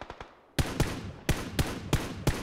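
Gunfire from the Battlegrounds video game: about six sharp, loud shots fired in an uneven rhythm, with a quieter burst of faint shots just before them. No one talks over the shots.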